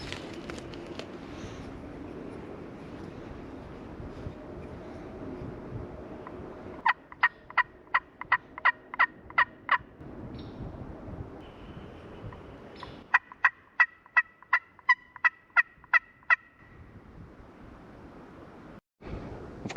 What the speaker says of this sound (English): I just heard a couple gobbles down in this ravine here